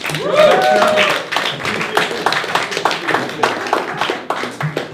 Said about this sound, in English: Put your hands together for the blackest guy I've ever met, Mr. Black Zeus.